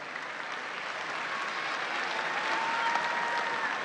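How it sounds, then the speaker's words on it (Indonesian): Steady applause from a large audience at a national Christmas celebration in Indonesia, a dense continuous clapping that holds even and slightly swells toward the end, with no voices over it. "kita berikan sekali lagi tepuk tangan yang paling meriah"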